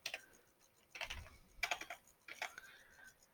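Computer keyboard keys clatter in quick irregular bursts of clicks, close and moderately quiet, as someone types a hospital name into a stock-market website search.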